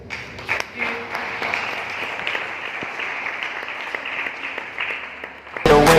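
An audience applauds at a business seminar in Bhiwani, a dense sustained clapping that fills the room for several seconds before a sudden burst of loud music cuts in at the end.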